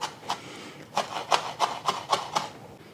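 Knife chopping scallions, the white and light green parts, on a cutting board: about eight evenly spaced crisp strokes with soft, woody knocks, close and fairly quiet, with no talking.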